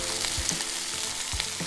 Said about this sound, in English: Get the sizzle in high def